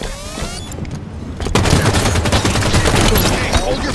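Gunfire in the multiplayer video game Halo 5 comes as a dense, loud fusillade of rapid shots and booms, growing heavier halfway through and continuing without a break, with a voice faintly underneath.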